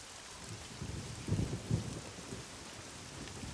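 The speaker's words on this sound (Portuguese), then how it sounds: "No mato, na tela, barulho de chuva, olha isso" Rain in the survival game SCUM, a soft, continuous wash of falling rain with a low rumble swelling briefly in the middle, faint and fairly distant.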